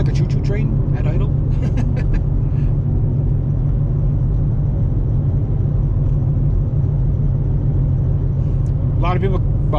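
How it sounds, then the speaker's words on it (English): A smoky car engine idles with a deep, steady rumble throughout, chugging rhythmically like a train, while someone talks over it at close range. "This thing sounds like a choo-choo train at idle."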